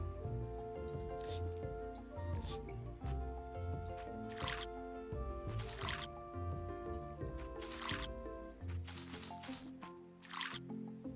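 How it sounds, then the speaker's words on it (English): Crops being watered in the farming video game Roots of Pacha: repeated soft splashing, dripping and squishing bursts at irregular intervals over a quiet looping game music background. "now let's do the watering"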